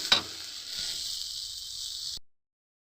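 A paste of ground cumin and spices sizzles in hot oil as it is sautéed for a village-style prawn and elephant-foot-yam dhoka. After a sharp click at the start, a steady, close hiss runs for about two seconds and then cuts off abruptly.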